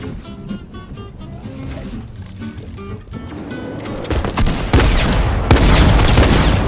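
Gunfire in Fortnite builds from scattered shots into dense, loud bursts and heavy blasts that grow more intense toward the end.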